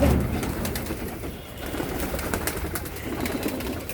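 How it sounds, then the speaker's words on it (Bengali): Pigeons in a crowded home loft with nesting birds and eggs coo steadily throughout, a soft continuous murmur of many birds nearby with occasional flutters. "এই যে কবুতরের বান্ডিল, এই যে মাইনসের কবুতর"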